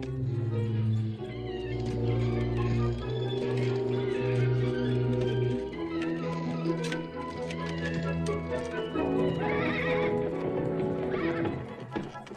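Horses neigh and whinny over a steady, dense backdrop of galloping hooves and movement, loud and continuous throughout, with some voices mixed in, in a 1939 animated cartoon.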